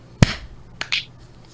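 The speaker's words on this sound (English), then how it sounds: "So we're gonna do a sync clap" A single sharp hand clap for audio sync, one loud crisp crack near the start followed by a couple of softer taps, otherwise quiet.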